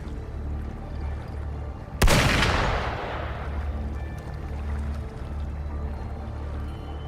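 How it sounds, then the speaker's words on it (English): A single sharp gunshot-like blast in the video game Wuthering Waves, ringing out with a long decaying tail over a steady low ambient rumble. "Gunfire! We've got intruders."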